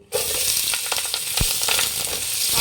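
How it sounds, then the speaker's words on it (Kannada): Loud, steady sizzling as onion, green chilies and curry leaves hit hot oil in a pan, starting abruptly and crackling on close by with a few stirring scrapes, no voices. "ಇವಾಗ ಈರುಳ್ಳಿ ಹಸಿಮೆಣಸಿನ್ಕಾಯಿ ಕರ್ಬೇವಿನ ಸೊಪ್ಪು"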